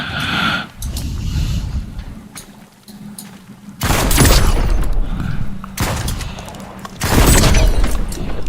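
Grenade explosions in the shooter Active Matter, several loud booming blasts with crackling debris arriving in separate bursts a few seconds apart, between quieter stretches of rumbling combat.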